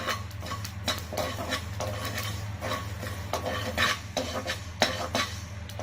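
Fenugreek and mustard seeds dry-roasting in a pan without oil, a soft rattle of seeds and steady scraping of a spoon against the metal over a low hum, with no talk.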